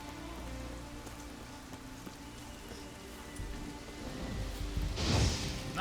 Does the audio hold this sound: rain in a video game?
yes